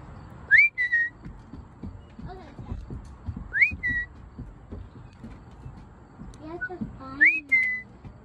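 Three short rising whistles, each a quick upward slide followed by a brief steady note, spaced a few seconds apart over quiet background murmur and bumps.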